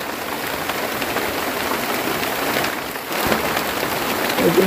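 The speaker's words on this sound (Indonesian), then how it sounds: "Siang malam hujan terus." Heavy rain falling steadily on a shelter hut, a dense continuous hiss of drops on the roof, close and loud with no talk.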